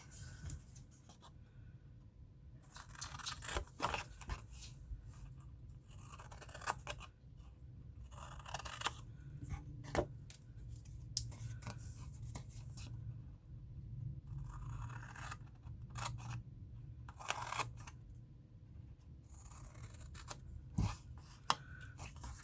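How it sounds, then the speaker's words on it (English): Scissors cutting out a custom box template from card, with repeated close snips and scraping slides of the blades through paper in uneven bursts, quiet and without talk. "Cut straight on the side that's going to be the outside and cut in on the tabs."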